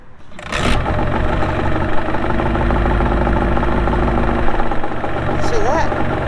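A Yamaha 25hp outboard motor idles steadily after being started with a little choke, its engine drone continuous and fairly loud throughout with mechanical rattle, while a voice speaks briefly near the end.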